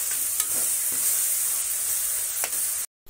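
Ground tomatoes hit onions already fried red in hot oil, giving a steady loud sizzle with a few short stirring scrapes, then cutting to sudden silence near the end.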